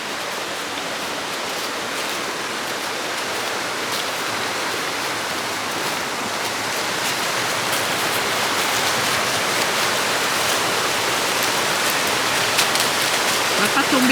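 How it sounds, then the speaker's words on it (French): A small waterfall in a eucalyptus forest, a steady broadband rush of falling water heard close and continuous, growing slightly louder toward the end. "Là, il y a une petite cascade et je suis dans la forêt d'eucalyptus."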